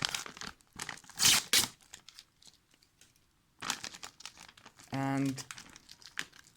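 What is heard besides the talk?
tearing open MRE granola pouch from the top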